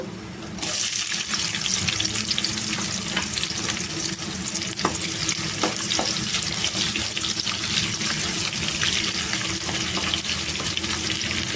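Onion pieces fry with raw banana in a pan, a loud, steady hiss of hot oil that begins abruptly and continues without a break.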